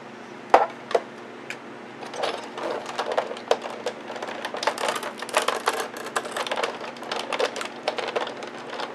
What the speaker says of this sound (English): we're going to go ahead and run that through our die cut machine